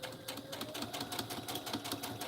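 Heavy-duty sewing machine stitching through trench coat fabric, a fast steady run of needle strokes with a whirring motor hum throughout, close and continuous with no talking.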